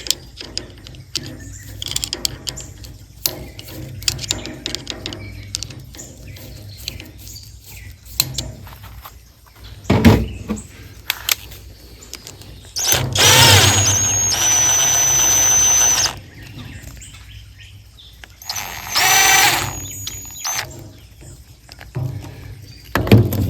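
Hand tool ratcheting clamps tight around the cage of a Huayee HY14C Chinese mini excavator during a fire extinguisher install, with clicking bursts, metallic clanks and a couple of louder sustained stretches.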